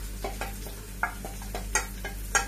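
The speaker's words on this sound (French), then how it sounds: "c'est cuire mes feuilles de manioc" Cassava leaves cooking in a pot for a smoked-fish dish, with a spoon stirring in regular scrapes and soft sizzling, close and fairly quiet, no talking.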